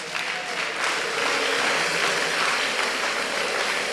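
A church congregation applauds and cheers in a loud, steady burst of clapping that fills the room for several seconds.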